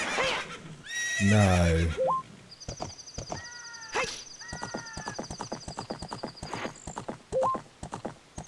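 Horse neighs loudly and long, then hooves clip-clop in steady rhythm with further short whinnies while riding in Zelda: Master Quest, clear and up close with chiming game tones over it.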